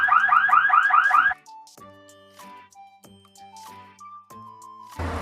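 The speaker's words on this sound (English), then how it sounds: "Police car," A police car siren opens with a fast, loud warbling wail for about a second, then gives way to a series of shorter electronic tones and chirps at varying pitch, close and clear.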